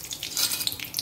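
Mustard seeds sizzle and crackle in hot oil in a pan while tempering spices for a South Indian coconut rice. The frying is brisk, close and continuous, with sharp little pops throughout and no talk.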